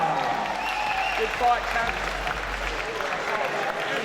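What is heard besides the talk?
applause for a fighter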